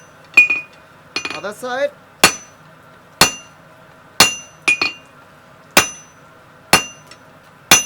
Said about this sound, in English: Now you can come and hit the taper and taper it up with your flat die.